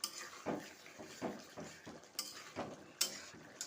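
Spiced chicken pieces are stirred in a pan, giving soft rhythmic scrapes and knocks about twice a second over a faint sizzle, quiet and close.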